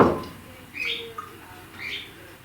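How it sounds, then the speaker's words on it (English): A big parrot and a small bird call together indoors, giving two short, bright chirping bursts about a second apart, close and fairly loud in a quiet room. "And here's a big parrot"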